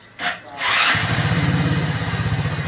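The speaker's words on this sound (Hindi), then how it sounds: "फिर से यहाँ पे ऑन करता हूँ और बाइक का सेल्फ लेता हूँ" A BS6 motorcycle is self-started: a brief electric starter whir leads straight into the engine catching and settling into a steady, loud, rhythmic idle, close by.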